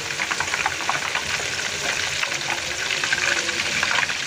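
Rolled rice vermicelli and egg snacks fry in hot oil, giving a steady, dense sizzle and bubbling that runs unbroken throughout with no voices.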